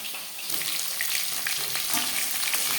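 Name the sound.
fish frying in oil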